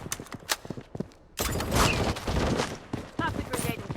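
Gunfire in the Blood Strike shooter game: scattered single shots, then a dense sustained volley of rapid shots close and loud, with game voice callouts.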